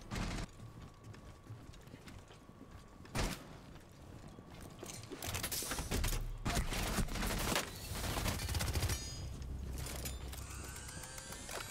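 Gunfire from Thorn in a tactical shooter match, with bursts of rapid shots, clanks and mechanical rattles piling up into a busy, mid-distance barrage that swells in the middle and stays loud to the end.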